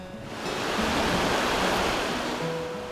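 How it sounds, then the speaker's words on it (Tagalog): A river flows past the riverside in Hakuba, Japan, giving a steady broadband rush of water that swells slightly and stays close and continuous, with faint tonal sounds in the background. "Dito sa tabing ilog"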